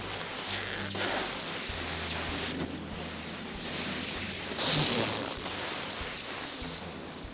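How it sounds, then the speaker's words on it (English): Protective film is peeled off greenhouse panels, a continuous close crackling, hissing rustle with a few sharper tearing surges partway through and no talking. "I'll remove the rest of the protective film"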